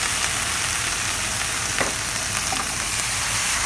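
Tofu manchurian with cabbage stir-fries over a medium flame after soy sauce goes into the pan, giving off a loud, steady sizzle with faint stirring scrapes and no voices.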